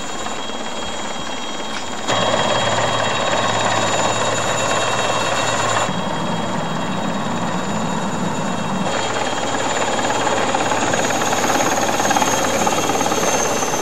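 Helicopter rotor and engine thumping loudly and steadily as it prepares to lift off carrying orangutans slung underneath, growing louder after a short quieter start, with no talk.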